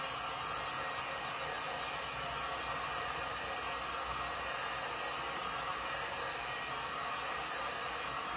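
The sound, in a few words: hair dryer drying blue paint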